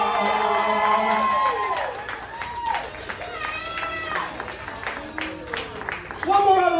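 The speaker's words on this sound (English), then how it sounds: "One more round of applause for your entire cast tonight!" Audience at a live comedy roast show applauding and cheering, a dense wash of clapping with whoops and shouts rising and falling throughout, fairly close and loud, with voices calling out over the crowd.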